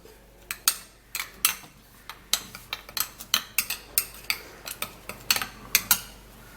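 A spoon stirs a coffee mixture with brown sugar in a small dish or cup, producing a steady series of sharp, close metallic clinks and taps at an irregular rhythm, with no voices.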